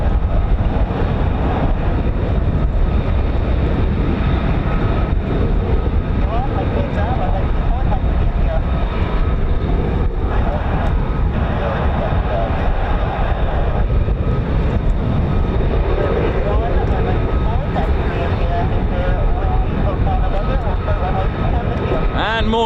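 US Air Force F-35 fighter jets of the 48th Fighter Wing taxi at RAF Lakenheath, giving a loud, continuous engine roar and whine nearby, with people talking over it.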